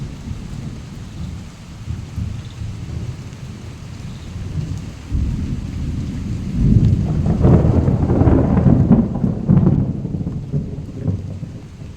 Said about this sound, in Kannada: ಒಳ್ಳೆ ಮಳೆ ಬಂತು.